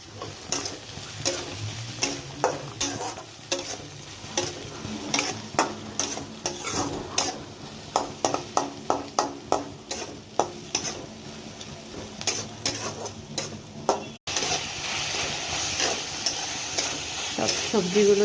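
A spoon scrapes and taps through carrots, other vegetables and soaked puffed rice in a pan, giving a run of quick, close stirring clicks over a soft sizzle that turns into a steadier hiss near the end.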